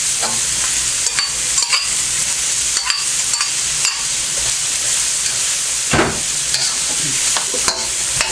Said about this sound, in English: And now we add the onions.